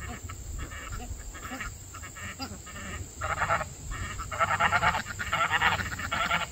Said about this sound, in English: That's your duck.